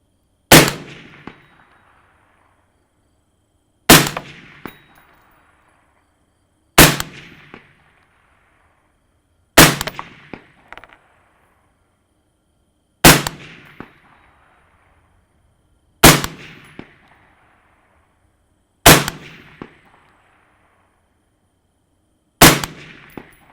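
Eight rifle shots fired at a 10-inch steel plate 200 yards away, each a sharp crack with a short ringing tail, spaced evenly about three seconds apart with silence between them.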